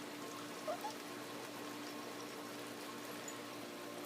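Steady rain falls on a rainy night outdoors with dogs nearby, a soft even hiss with faint scattered drips throughout, quiet and unbroken.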